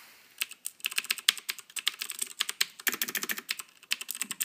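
Rapid, crisp clicking of a CM Storm QuickFire Rapid mechanical keyboard with Cherry MX Green switches, close up and steady, like fast typing with no voices.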